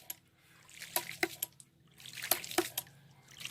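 Water trickles and splashes into a homemade free energy water pump as it fills, in quiet, uneven bursts of dripping and gurgling with short pauses between them.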